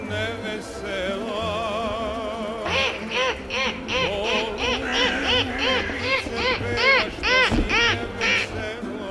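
A man imitates bird calls with his voice, producing a rapid series of nasal, quacking and honking cries. The calls come in close, loud bursts with brief pauses between them.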